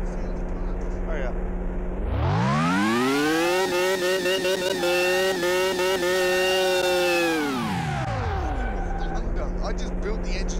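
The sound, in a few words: car engine running in Car Mechanic Simulator 2018 video game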